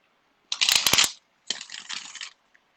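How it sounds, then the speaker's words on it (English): A tarot card deck being shuffled in two bursts: a loud, crisp riffle of flicking cards, a short pause, then a slightly softer second riffle, close up with no talking. "Well, start shuffling."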